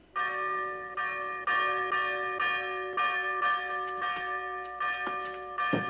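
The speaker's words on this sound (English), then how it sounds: "Oh, the bell above the door outside." A bell above a door in a period TV thriller rings repeatedly, clear metallic strikes with long ringing overtones, loud and close, struck in an uneven series of about ten chimes.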